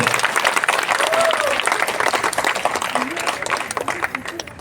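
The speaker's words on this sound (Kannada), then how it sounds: "ಇವರ ಕಂಠ ಸಿರಿಗೆ ಜೋರಾದ ಚಪ್ಪಾಳೆ ಎಲ್ಲರಿಂದ ಬರಬೇಕು" Loud, sustained applause from an audience honouring a Yakshagana singer at a cultural event, with dense clapping filling the whole stretch and a few voices faintly audible beneath.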